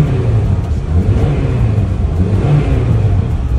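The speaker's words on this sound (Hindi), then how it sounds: "ये गाड़ी का साउंड बता रहा है कि गाड़ी में है जान।" A car engine idles and revs steadily after repair work, with a new belt fitted; a continuous close, loud low rumble with no talk over it.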